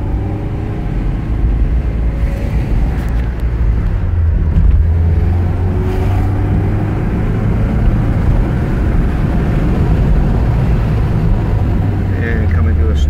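Porsche 924 engine pulling steadily uphill in second gear, then shifting into third, a loud continuous low rumble from inside the car with a brief dip around the gear change.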